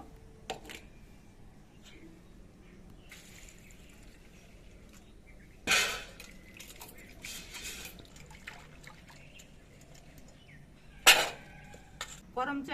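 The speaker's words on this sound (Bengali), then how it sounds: "আচার তৈরির জন্য প্রথমে করমচাগুলোকে আমি ধুয়ে নেব" Karamcha fruits are washed in water, giving quiet intermittent dripping and trickling with a few sharper splashes and sloshes, close by, while a voice speaks faintly at times.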